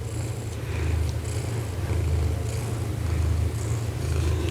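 A house cat purrs close by, a soft steady low rumbling that pulses gently and continuously throughout, alone with no talk.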